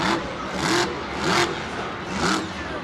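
Monster truck engine at a Monster Jam stadium show in MetLife Stadium, 2013, revving in three loud surging bursts during a sky wheelie, with a steady rumbling roar between the peaks.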